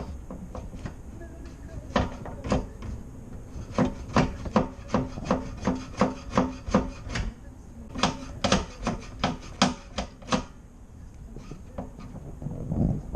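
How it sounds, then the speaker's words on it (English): Scraping dirt off the gas tank of a Luhrs 28 boat makes a series of rhythmic rasping strokes, about a dozen in quick succession, close and fairly loud, with brief pauses before and after. "Let's see if I can do some scraping."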